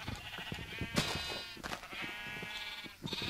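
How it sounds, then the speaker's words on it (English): Flock of sheep in the Minecraft survival game bleating repeatedly, overlapping baa calls layered over one another, loud and close with clicks of game noise beneath. "look at how many sheep's there are"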